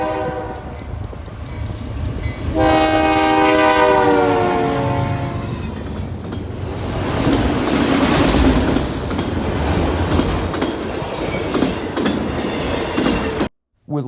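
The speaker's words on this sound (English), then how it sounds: "we see a westbound autorack train with BNSF 5193 on point passing the former yard office" A long westbound BNSF autorack freight train rumbles past close by in Illinois, its horn sounding in sustained blasts early on, followed by steady rolling clatter of cars.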